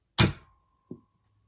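Foam rounds pushed into a Nerf Rival Pilot blaster: one sharp plastic clack, a short lingering ring, then a second softer click about 0.7 s later, close by and otherwise quiet.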